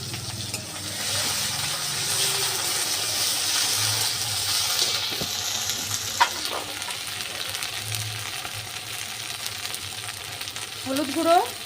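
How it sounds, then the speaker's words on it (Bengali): A ground paste of dried and green chillies and ginger, with turmeric and salt, sautés in a pan while a fish curry is being made. A continuous loud sizzle runs throughout, with occasional clinks and a brief watery sound at the end. "এবার সব কিছু আমি একসাথে ভালো করে কষিয়ে নেব।"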